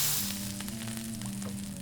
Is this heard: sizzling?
yes